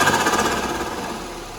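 An Audi A5 B8.5 with an MST intake and GFB DV+ diverter valve, giving a fast, rattling chuff-chuff flutter that fades over under two seconds, close and without talk.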